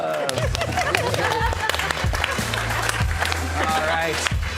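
An audience at a comedy showdown claps and cheers for a comedian, with scattered hand claps and crowd noise under a loud voice talking.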